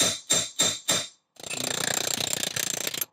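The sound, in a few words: hammering a drift to knock out tabs, Jaguar E-Type rear suspension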